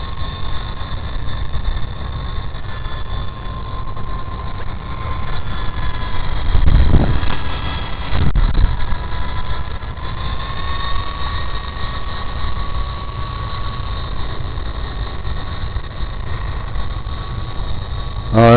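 A Wltoys V913 large radio-controlled helicopter flies steadily with a sustained whining motor and rotor buzz. The pitch shifts slightly as it manoeuvres in a breeze, and a couple of louder whooshes pass close by.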